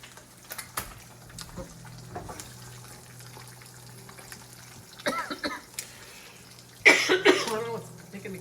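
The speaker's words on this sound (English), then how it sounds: "I don't know what's making me cough now." A cook gives a few bursts of coughing in a home kitchen while preparing a Mexican loco moco with fried eggs, rice and burger patties, with light clinks and faint kitchen noise between the coughs.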